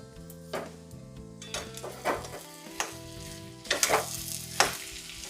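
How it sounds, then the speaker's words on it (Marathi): Fried Bombay duck is stirred with lima beans in a hot pan: a soft sizzle broken by several sharp scraping strokes of a spatula, set against quiet background music. "बोंबील व्यवस्थित मिक्स करून घेऊयात।"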